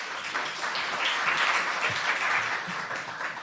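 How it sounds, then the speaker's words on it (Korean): Audience applause after a seminar talk by the head of Panmnesia at SK hynix, a steady dense wash of clapping from a seated crowd lasting throughout, fairly loud and even. "다시 한번 큰 박수 부탁드립니다."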